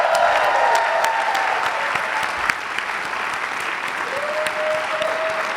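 Graduates at a business school recognition ceremony applaud themselves, a strong steady wash of clapping with a faint voice or two sustained briefly beneath it.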